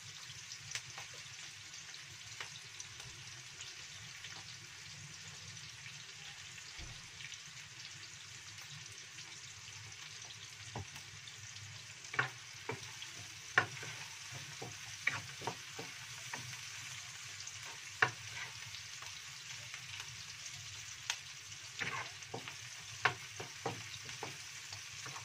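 Onions and chili with petis sizzle steadily in a hot pan, a quiet continuous frying hiss broken by occasional sharp spatters and stirring clicks, with no voices.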